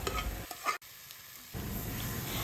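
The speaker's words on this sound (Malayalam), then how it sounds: "ആ ഒരു മസാല ചേർത്ത് നല്ല പോലെ മിക്സ് ചെയ്തെടുക്കണം" Masala with tomato and capsicum sizzles in a pan for capsicum sambar while being stirred, with scraping stir sounds over the frying hiss and a brief quieter gap partway through.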